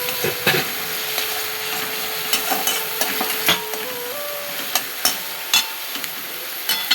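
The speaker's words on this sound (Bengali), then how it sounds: "একটু আদা বাটা দিয়ে দিলাম, দিয়ে এবার নেড়ে নিচ্ছি" Onions with ginger paste are stirred in a frying pan, a soft steady sizzle of hot oil under repeated sharp clicks and scrapes of the spoon against the pan.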